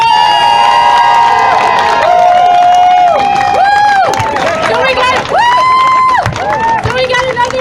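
A crowd at a political rally in Baltimore cheers and applauds a speaker with loud whoops and shouts. Whistles and excited voices ring over steady clapping throughout.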